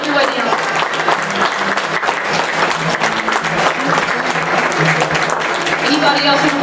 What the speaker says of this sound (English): Give them a hand clap, y'all.